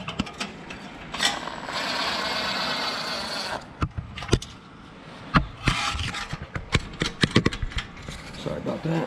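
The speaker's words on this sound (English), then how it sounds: "let's try to tighten these clamps up" A ratchet wrench snugging down clamps during an SRT engine swap, heard as a long steady clicking run followed by short bursts of sharp clicks and scrapes, close and fairly loud, with no talk over it.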